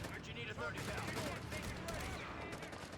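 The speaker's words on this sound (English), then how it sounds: "But another heavy machine gun ready for this fight." Dense, continuous World War II battle noise from the strategy game Company of Heroes 3, with heavy machine gun bursts and artillery fire in a 1v1 match, while a commentator talks over it throughout.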